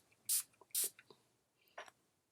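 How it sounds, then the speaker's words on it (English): Two quick hissing spritzes of hydrating, priming setting spray misted onto a face, close and soft in a quiet room, followed by a fainter third puff and light handling noises. "So I'm going to spray this to hydrate my face and prime it at the same time."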